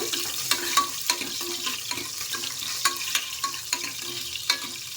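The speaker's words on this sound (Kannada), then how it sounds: "ಎಣ್ಣೆ ಕಾದಿದೆ ನೀಟಾಗಿ ಈರುಳ್ಳಿ ಹಾಕೊಳ್ಳೋಣ ಇವಾಗ ಫ್ರೈ ಮಾಡ್ಕೊಳ್ಳೋಣ" Onions fry in heated oil for an egg sambar, with a steady sizzle broken by repeated clicking and scraping as a spoon stirs the pan close by, and no speech.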